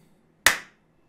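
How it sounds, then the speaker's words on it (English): A single sharp hand clap used to sync audio and video while recording in OBS Studio, close and loud in an otherwise quiet room, with a brief decaying ring afterward. "And we're just going to clap."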